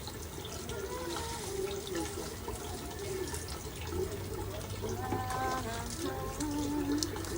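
Water splashes and trickles steadily while flowers are watered at close range. A voice talks over the flow.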